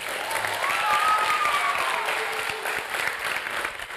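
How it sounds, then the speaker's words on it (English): School students give a round of applause in a Christian school gathering with a gold medal Paralympian, a steady wash of clapping throughout with a faint voice briefly rising over it. "let's give one last round of applause"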